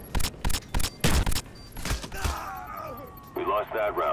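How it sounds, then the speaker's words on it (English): Shotgun blasts in the video game Black Ops 1, several sharp loud reports in quick succession, followed by a short electronic tone and quick chirping game sounds. "That's how the shotgun sounds."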